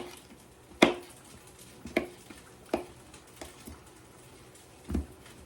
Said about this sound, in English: Now chop this other one up with the seeds in it